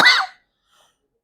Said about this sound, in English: I have a little coughing